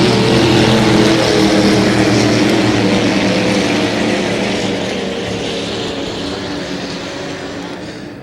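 Loud, roaring vintage racing boat engine passing close by during a race heat at Pateros, a dense throaty drone that gradually fades as it moves away.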